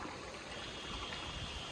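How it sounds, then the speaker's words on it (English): A small outdoor stream runs steadily at a hunting camp, a quiet, continuous trickling wash of water heard from nearby with no voices. "Water running."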